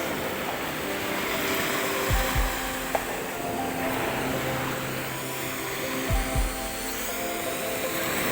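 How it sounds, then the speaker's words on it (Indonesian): A steady high-pitched whir of a small drone hovers nearby, with faint thumps in the background. "beginilah caranya menerbangkan drone"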